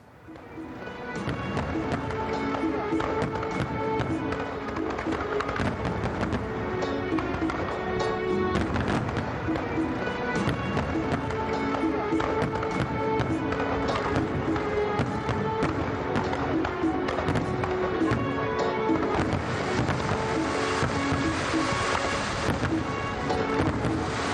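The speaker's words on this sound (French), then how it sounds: "La cérémonie s'est clôturée par un spectacle de feux d'artifice marquant l'événement." A fireworks display at a closing ceremony crackles and booms continuously, with dense overlapping bursts and wind-like rumble, loud and sustained throughout.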